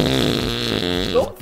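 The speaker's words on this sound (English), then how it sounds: "Don't fart." A long, wet-sounding fart with a harmonic, brassy tone plays in a GTA 5 roleplay game, loud and close, lasting over a second before cutting off abruptly.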